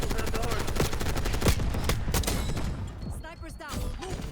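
Sustained automatic fire from an XMG machine gun with a 150-round magazine in Black Ops 6, a dense, rapid stream of loud shots that keeps going for most of the stretch, with a brief voice near the end.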